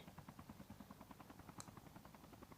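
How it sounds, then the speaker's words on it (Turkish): A helicopter's rotor in a Call of Duty battle royale game chops in a steady rapid pulse, moderately loud, with a brief bright tone partway through; no voices. "Şöyle bir helikopter."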